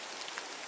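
Steady rain falling and pattering on surfaces outdoors, a dense even hiss with no talk over it.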